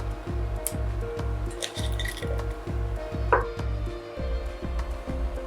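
Potato slices being laid into a cooking pot, giving light clinks and soft wet squishes against the pot in an uneven rhythm, with a steady low hum underneath.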